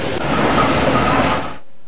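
A train runs along a railway line in North Lampung that is undergoing routine track repair. The rumble is loud, steady and broadband, then stops abruptly near the end.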